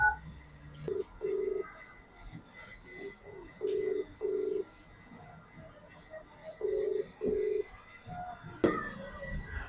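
A phone call rings out through a handset, with several evenly spaced ringback tones in pairs over quiet room noise, ending in a brief click as the line connects.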